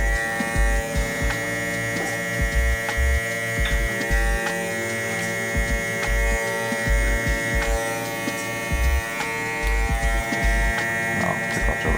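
Electric hair clippers fitted with a half guard buzz steadily and close up as they trim a beard. A continuous motor hum runs the whole stretch with faint fluctuations as the blade moves through hair, and no one speaks.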